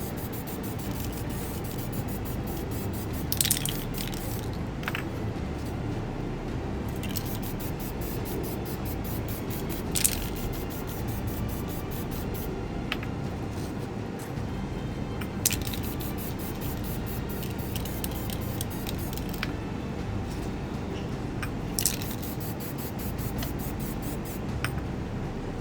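Steady hiss of an aerosol can spraying flat black primer onto a tray of twelve tabletop miniatures, a continuous close spray punctuated by faint clicks and short sharp ticks at intervals.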